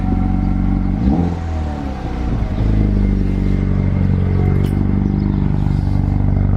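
A small four-cylinder car engine with a factory boost gauge revs and accelerates up through the gears while driving, a loud, close, buzzy drone with a dip and rise in pitch at a shift.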